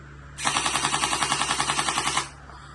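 A toy M416 gel blaster on full auto fires one steady burst of about twenty rapid, evenly spaced mechanical clacks lasting roughly two seconds, loud and close, over a faint motor hum.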